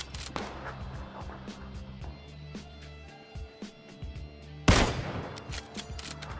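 Kar98 bolt-action sniper rifle firing in PUBG, a single sharp loud crack near the middle followed by a ringing tail, over low background hum and a few fainter distant shots.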